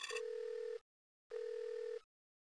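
Two electronic telephone rings from a video game, each a steady tone a little under a second long, separated by a brief silence, clear and alone with no talk.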